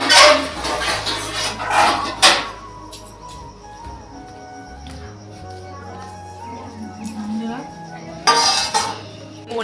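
Dishes, cutlery and pots being handled in a home kitchen, irregular clinks, clatters and scrapes in bursts, close by, with occasional voices in the background.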